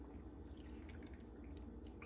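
Warm chicken broth and water are poured into jars for canning, a faint trickling and dripping that runs steadily and close over a low background.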